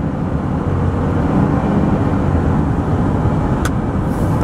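A car cruises at about 60 mph on a straight highway in traffic just after a downshift, its engine and road noise forming a loud, steady broadband drone throughout.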